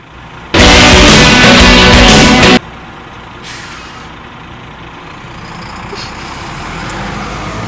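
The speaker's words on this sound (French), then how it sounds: "Ah, laissons passer le camion." Garbage truck on a street giving a loud, sudden hiss of air brakes for about two seconds, then a low idling rumble as it moves past nearby.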